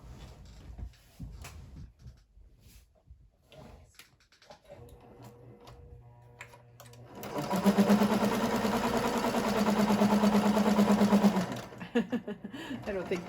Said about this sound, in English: So I'm going to stitch a little bit there and then I'll stitch down there.